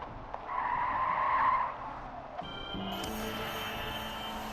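Car tires skid and squeal in the video game Killer Frequency as the car speeds away, a sustained screech for about a second followed by a steady engine drone, with no talking.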